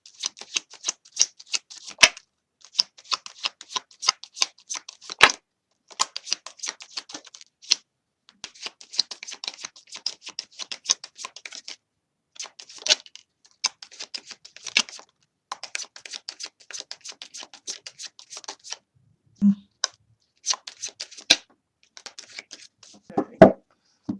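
Tarot cards are shuffled in quick riffling bursts of papery flicks, separated by short pauses, close and fairly quiet with no voice over them.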